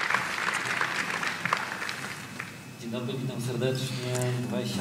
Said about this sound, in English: Oskar Zięta, let's give him a huge hand of applause